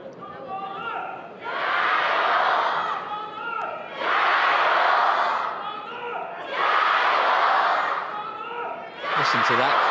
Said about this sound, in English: Listen to that